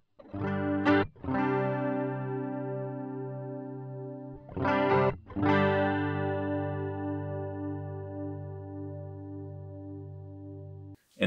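Electric guitar through a Boss chorus ensemble effect in Helix Native software rings out in two long sustained chords, each struck with a quick double strum, shimmering and alone.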